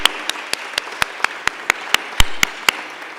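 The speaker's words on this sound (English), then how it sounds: "think if we can all just give another round of applause to all of you." Audience at a business women's graduation ceremony claps in a sharp, steady rhythm, loud and close, with about a dozen distinct claps over a few seconds.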